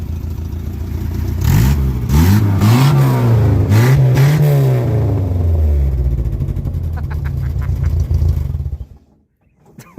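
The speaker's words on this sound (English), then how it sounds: "The AMC 150 on this 1986 MJ with a 4-speed was great." A 1986 Jeep Comanche MJ with the AMC 2.5-liter (150) four-cylinder and a four-speed manual revs up and down several times, loud and close, before the engine note cuts off near the end.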